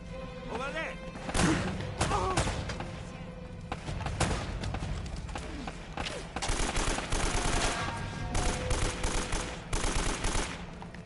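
Rapid automatic gunfire in Uncharted: Drake's Fortune, clattering in repeated bursts with thuds and impacts throughout, someone speaking over part of the fight.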